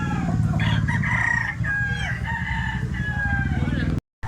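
Roosters crow at a busy gamecock market, one loud, close, drawn-out call sounding over a crowd of voices, with clucks and other crowing mixed into the background din.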